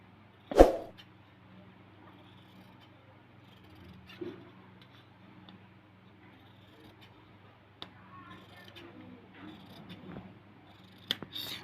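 Scissors snipping fabric for a small child's dress, one sharp close cut near the start followed by a few faint, scattered snips and rustles over a quiet background.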